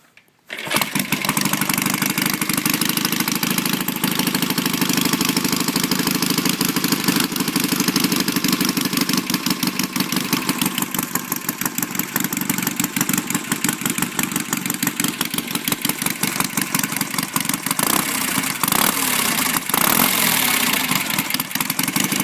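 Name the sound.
1969 BSA Triumph 650 chopper motorcycle cold start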